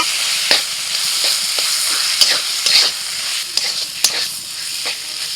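Rohu fish cooks with cumin powder, red chilli powder, salt and garam masala in a pan, giving a loud, steady sizzle punctuated by repeated sharp scrapes and taps of a spatula while stirring.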